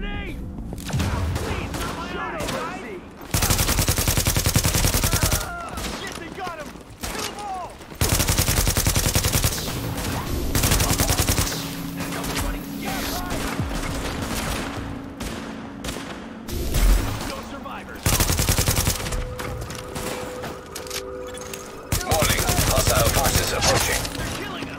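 Heavy gunfire in The Division video game around Times Square: loud bursts of automatic fire and rapid shots come and go, with brief quieter gaps, and game voices speak over the shooting.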